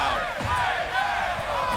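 Tournament crowd at a Tekken fighting-game event roaring and cheering steadily, a dense sustained wall of voices with shouts rising above it and no pauses.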